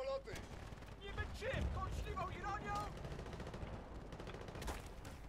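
Gunfire in the shooter game Battlefield Bad Company 2, with scattered shots and bursts crackling through a busy battle mix, faint and partly under voices speaking.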